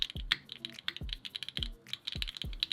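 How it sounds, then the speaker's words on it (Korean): Brisk typing on a TGR Jane V3 Rubrehose Edition mechanical keyboard: a close, uneven run of crisp clicky keystrokes with a few heavier thocks, alone without talk. "타이핑 해볼게요."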